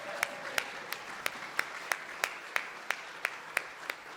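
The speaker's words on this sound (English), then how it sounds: "Can we have a cheer for Karen Stark and the amazing job?" Steady, evenly spaced claps ring out at a conference, sharp and regular about three per second. They are fairly faint, and no loud crowd cheering rises above them.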